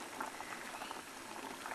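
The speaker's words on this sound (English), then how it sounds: "So here's my potatoes boiling away nicely." Potatoes boil in a pot, a faint, continuous bubbling and gurgling of water heard up close, with no talk.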